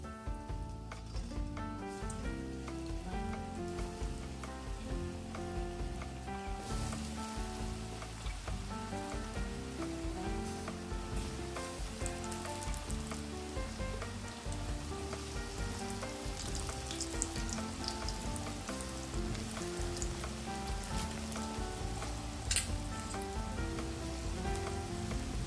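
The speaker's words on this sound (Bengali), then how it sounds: "এবার একটা একটা করে আমি পনির ছেড়ে দেবো।" Paneer pieces deep frying in hot oil in a wok, a bubbling crackling sizzle that runs steadily throughout at moderate volume, with a faint tonal background hum and no speech.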